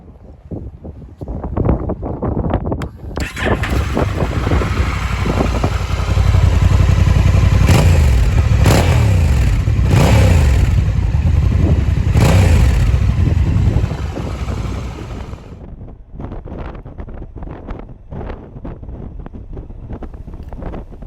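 A Honda NT1100 motorcycle engine starts and idles loudly nearby, revving several times in sharp bursts before settling back to a steady idle.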